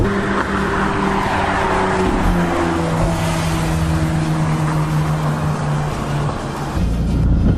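A McLaren 570GT sports car engine drones loudly from inside the car, holding a steady roar with tones that shift as the engine changes revs, ending in a brief surge.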